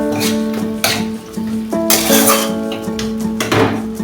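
Onion and garlic paste stir-frying in a pan for Bengali mustard parse fish curry: a spatula clatters and scrapes against the pan in irregular bursts, close and fairly loud, over steady background music.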